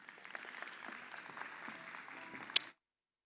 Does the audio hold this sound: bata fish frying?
no